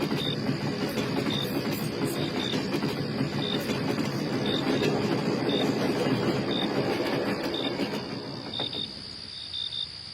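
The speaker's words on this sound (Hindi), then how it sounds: "लगता है आज रात का आखिरी ट्रेन आ रहा है।" Cartoon night scene at a train station as the last train of the night arrives, a steady loud rumble of rolling rail cars with crickets chirping throughout, the rumble easing toward the end.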